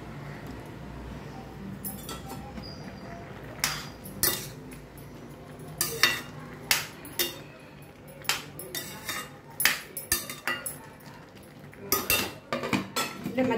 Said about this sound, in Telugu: ఇప్పుడు ఒకసారి కలబెట్టుకుందామండి